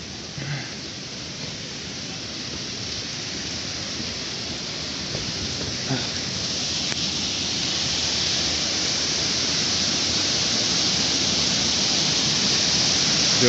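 Steady broadband rush of a waterfall in mountain terrain, a continuous hiss of falling water that swells slightly louder over time, heard without talk.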